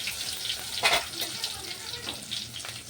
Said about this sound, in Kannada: ಸಾಸಿವೆ ಹಾಕ್ತೀನಿ ಈ ಜೀರಿಗೆ ಹಾಕ್ಕೊಳ್ತೀನಿ ಇದರ ಚಟಪಟ ಅನ್ನೋದು